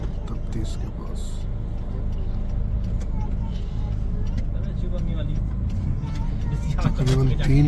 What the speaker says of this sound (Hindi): तकरीबन 3 किलोमीटर ये ट्रैफिक है